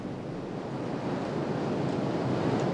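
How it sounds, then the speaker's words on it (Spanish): Sea waves washing continuously onto a rocky Chilean shore where cut cochayuyo seaweed is gathered, a steady broad roar of surf with wind buffeting the microphone, alone without voices. "El cochayuyo cortado es arrastrado por el mar hasta la orilla, donde don Nazareno"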